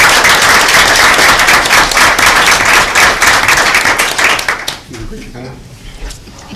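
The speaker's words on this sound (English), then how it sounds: "Let's give her a round of applause." A roomful of people at a county board of education meeting claps loudly in sustained, dense applause for several seconds, then it tapers off into quieter murmuring and a voice.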